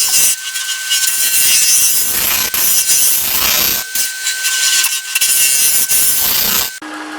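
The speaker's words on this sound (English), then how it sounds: "At this point, I'm going to go to my round nose scraper." A loud, continuous scraping and rasping of a round nose scraper cutting into spinning wood on a lathe while turning a box, with a steady whine and brief breaks in the cut.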